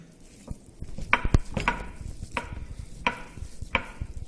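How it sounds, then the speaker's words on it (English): Spiced minced meat is mixed by hand in a bowl, a close, moist squelching and slapping with sharp knocks about every half second and soft squishing between them, and no one talking. "Now I'll be mixing this minced meat so that spices mix properly."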